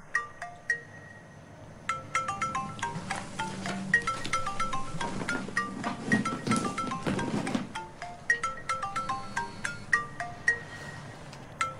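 Mobile phone ringtone ringing inside a bag, a muffled repeating electronic melody of bright plinking notes playing continuously for several seconds, with no talk over it.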